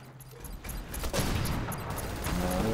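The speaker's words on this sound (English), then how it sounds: "Dang, dude's shooting grenades there." Grenade blasts and rapid gunfire in online multiplayer Killzone Shadow Fall, a dense clatter of shots and booms that builds after a quieter start and stays loud and busy to the end.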